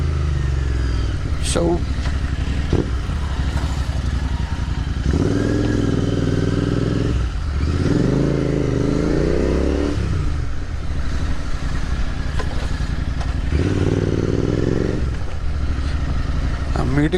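A Royal Enfield Continental GT650 motorcycle runs close by, its engine idling with a steady throb and rising in several brief revs, while someone talks over it.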